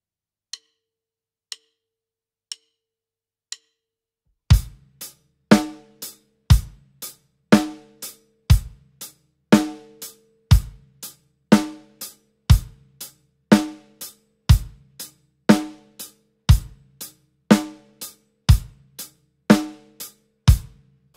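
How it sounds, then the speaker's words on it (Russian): After four faint clicks count in, a drum kit plays a slow, simple groove with eighth notes on the hi-hat, evenly spaced sharp hits repeating steadily and close, with no talking. "давайте попробуем, как это звучит, когда мы играем на хай-хете восьмые ноты"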